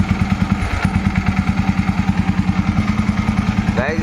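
An old Royal Enfield Electra 5-speed motorcycle engine runs in a steady, close, loud idle with an even rapid thump of firing beats and a metallic clatter throughout.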